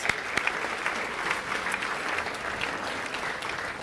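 An audience at a State of the City address gives a round of applause for an honoree, a fairly soft, even crowd clapping with a few sharper claps near the start, heard at some distance.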